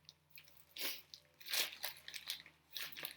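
A plastic bag is crumpled and crinkled in a few irregular bursts up close, standing in for rock under heat and pressure in a rock-cycle lesson, with quiet gaps between the crackly handfuls.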